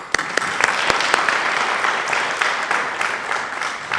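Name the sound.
audience applause for Sue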